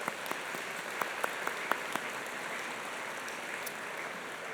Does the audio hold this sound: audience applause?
yes